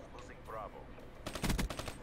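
Short burst of automatic gunfire from a hard-hitting gun in a video game, a quick rattle of close shots near the end after a brief quiet stretch with faint sounds.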